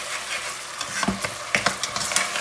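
Garlic goes into a pan of frying cumin, producing a steady close sizzle with spoon scrapes and small crackling pops as it is stirred.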